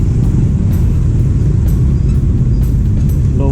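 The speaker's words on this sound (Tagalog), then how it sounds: "heavy traffic," Heavy, slow-moving road traffic rolls along EDSA near Quirino in Caloocan, Philippines. A loud, close, continuous low engine rumble runs throughout, with faint higher rattles and clicks on top.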